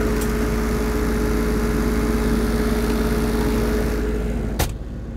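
A Lincoln Electric Dual Maverick 450 diesel engine-driven welder runs at a steady idle, a constant low hum with a sharp click near the end as the sound drops off.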